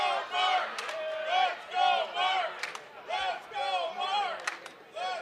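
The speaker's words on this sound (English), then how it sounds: "the crowd trying to get Mark up right now as we get a Let's Go Mark chant" A crowd at a Chosen Few Fighting Championships MMA bout chanting "Let's Go Mark" in a steady rhythmic two-beat pattern, loud and repeated several times, filling the arena.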